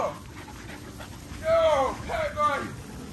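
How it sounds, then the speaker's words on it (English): A dog pants in quick breathy bursts close by, with a voice talking over and around the panting. "Y'all don't like this dog."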